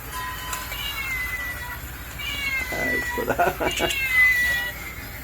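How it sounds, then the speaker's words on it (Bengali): A nearby cat gives several drawn-out, rising meows and wails while frightened birds are around, loud and clear over a low background hiss, and a person speaks briefly in between. "আর সেই বিড়ালটা এমন করছে"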